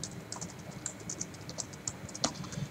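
Soft, quick clicking of keys on a computer keyboard while Arduino code is typed, faint and somewhat distant with an irregular patter of keystrokes over a low background hum.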